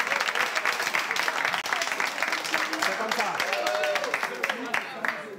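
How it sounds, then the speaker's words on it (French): A studio game-show audience breaks into applause, dense clapping throughout with a short spoken remark heard over it. "On l'applaudit, s'il vous plaît."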